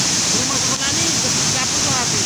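Floodwater from a flash flood rushes through a village in Nagekeo, East Nusa Tenggara, after an overflowing river. It makes a loud, continuous broadband roar throughout, with faint voices beneath.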